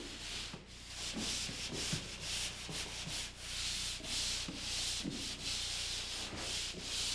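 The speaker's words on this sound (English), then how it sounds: "I start the sanding with a pole sander using a 120 grit or finer sanding screen or paper." Drywall being sanded with a pole sander fitted with a 120-grit or finer screen, rhythmic hissing back-and-forth strokes, soft and fairly quiet, repeating steadily with short pauses between passes.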